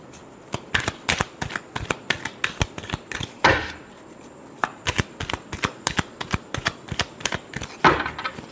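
A deck of tarot cards is shuffled by hand in quick, close riffling bursts, a rapid series of crisp flicks and slaps repeating steadily with brief pauses between runs.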